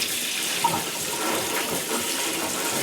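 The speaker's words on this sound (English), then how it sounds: "And I run some cold water over them" Cold tap water runs steadily over freshly blanched harvested vegetables to cool them, a continuous close splashing rush with no talk.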